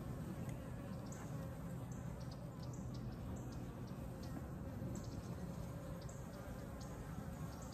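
Honeybees buzz around an open hive during a beekeeping inspection in February, a steady, faint, dense hum with no talk.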